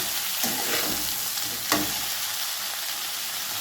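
Steamed broccoli frying in a pan, a steady bright sizzle throughout with a few scraping knocks of a utensil stirring it, moderately close.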